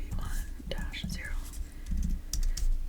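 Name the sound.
typing an ISBN number on a computer keyboard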